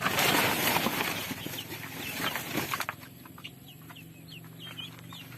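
Domestic fowl (guinea fowl) kept on a farm: loud scuffling and flapping for about three seconds, then a series of short, fairly close clucking calls over quiet background.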